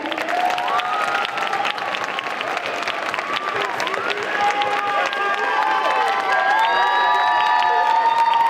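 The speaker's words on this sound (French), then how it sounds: "Alors vous pouvez vous applaudir, public stéphanois." Audience at a cosplay contest prize ceremony at a manga convention in Saint-Étienne clapping and cheering, loud sustained applause mixed with whistles, whoops and shouts that swell toward the end.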